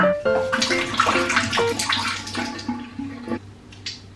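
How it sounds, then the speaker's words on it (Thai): Someone washes their face with plain water, splashing and running water in quick close bursts with a tap flowing steadily underneath, ending in a few wet drips. "ล้างเป็นแค่น้ำเปล่านะ"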